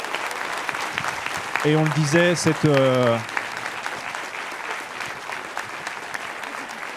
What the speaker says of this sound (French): on peut l'applaudir une nouvelle fois s'il vous plaît